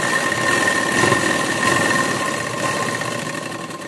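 A sewing machine runs steadily while stitching the neckline of a burqa, a continuous close mechanical whir that holds an even level for about four seconds with no talking.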